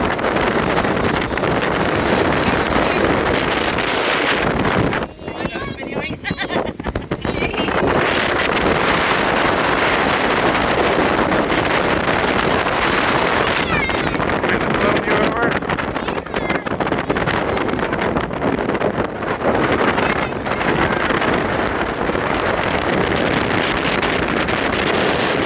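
Strong wind roars atop Currituck Lighthouse, a loud continuous buffeting rush across the microphone for the whole stretch, briefly easing for a moment before surging again.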